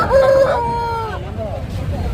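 A rooster crows once, loud and close, at a Sunday poultry market in Nellore, where fighting cocks are sold, with crowd babble and market noise underneath.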